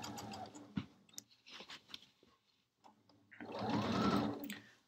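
A sewing machine stitches down the folded binding on a quilt, running in short stop-start bursts before settling into a longer, steady and fairly loud stretch of stitching with no talking.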